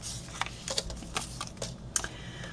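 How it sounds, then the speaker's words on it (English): Paper is scored on a scoreboard to make gift card pockets: a close run of quick, irregular clicks and light scraping taps, moderately quiet, with no talking. "You're going to line it up and score it on 3 sides."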